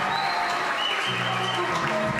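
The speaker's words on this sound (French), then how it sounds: "sur vos applaudissements s'il vous plaît." Crowd applause at the Miss Saône-et-Loire 2014 beauty pageant as the individual parade begins, a dense and even wash of clapping that holds steady and moderately loud throughout.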